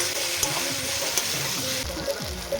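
Beef with vegetables being stirred and fried in a pan, a steady close sizzle with scraping stir strokes and occasional utensil knocks running throughout.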